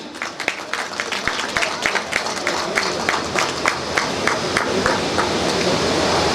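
An audience at a Barauni Dairy plant event breaks into sustained applause, with distinct claps standing out early before merging into a dense, steady roar.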